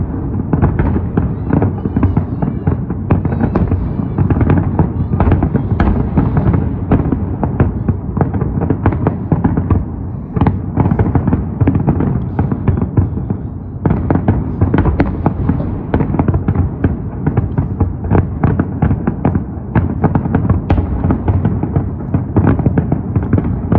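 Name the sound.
fireworks display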